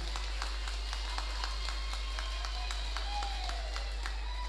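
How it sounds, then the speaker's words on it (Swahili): An audience claps in a hall during an ACT party campaign rally at Majid Hall. The clapping is steady and rhythmic, heard under a constant low hum. "piga makofi wanangu, piga makofi"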